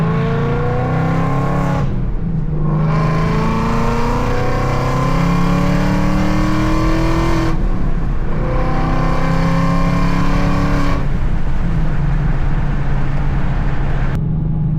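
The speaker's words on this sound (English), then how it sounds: "Downshifting, getting ready to do a pull is fun" A 2024 Ford Mustang downshifting and accelerating hard, its loud engine roaring and climbing in pitch through the gears, with brief drops in sound at each shift.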